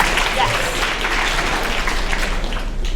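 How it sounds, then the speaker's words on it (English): A school audience gives a sustained round of applause for participants at a writers' week event, dense clapping filling the room with a voice speaking over it. "Give yourselves both a round of applause for participating"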